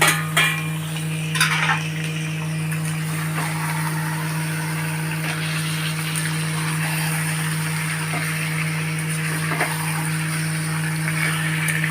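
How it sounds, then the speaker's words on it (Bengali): Marinated chicken with chopped garlic, pepper and ginger frying and being stirred with onions in a pan for a curd chicken curry, a steady sizzle running throughout with occasional scrapes and clinks of a utensil against the pot. "আমি এবার এই ম্যারিনেট করা যে মাংসটা 30 মিনিট যে ছিল চপ করা রসুন গোলমরিচ আর আদা দিয়ে আমি এটা ঢেলে দিচ্ছি"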